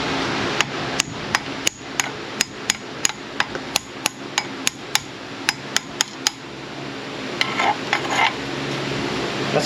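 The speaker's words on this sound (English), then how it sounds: "Let's do a couple hammer taps" About twenty sharp metallic hammer taps on a plasma-cut steel piece, struck one at a time at a fairly even pace, close and crisp, followed by a few quicker, lighter knocks.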